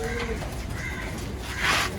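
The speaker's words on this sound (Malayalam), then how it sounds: "ഇത് പാലക്കാടൻ ലൈനേജ് പ്രാവാണ്." A Palakkadan lineage pigeon coos in a loft, its soft, low calls partly buried under steady background noise and nearby voices.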